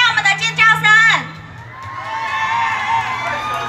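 A crowd at a 2012 Kaohsiung-Pingtung traditional Chinese medicine expo in Donggang, Taiwan, screams and cheers after an MC's voice. Bursts of shrill shouting and whoops rise briefly, then trail into scattered crowd noise.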